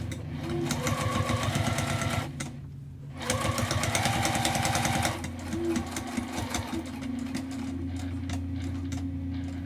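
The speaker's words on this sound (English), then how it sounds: "I'm just going to go right along the top and top stitch." A sewing machine top stitching along the top edge of a fabric wristlet, running in loud, rapid bursts with a brief pause in the middle, then slowing to a quieter hum near the end.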